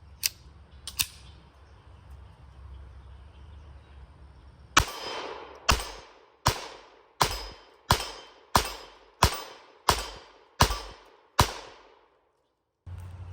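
Sig P322 .22 pistol firing outdoors: two early shots, then a steady string of about ten sharp, loud reports at roughly even intervals, each with a short ringing decay.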